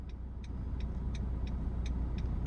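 A manual car in slow traffic creeps forward as the clutch is eased, a low steady engine idle rumble with a faint regular ticking, close and continuous with no talk.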